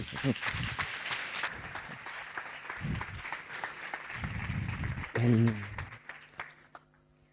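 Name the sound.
audience applauding a lecturer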